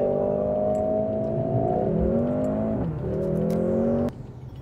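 A Mercedes-AMG C43 accelerating hard: the engine note climbs steadily through two quick gear changes, loud and close, then cuts off abruptly as the throttle lifts.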